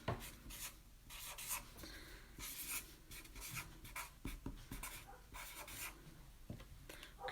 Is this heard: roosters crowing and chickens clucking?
no